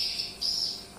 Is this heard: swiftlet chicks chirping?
yes